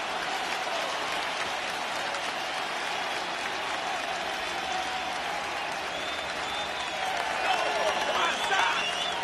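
Stadium crowd at a White Sox home playoff game against the Astros, the ALDS Game 3 in Chicago, roaring and cheering as a sustained wash of noise that swells louder near the end, with a broadcaster talking over it.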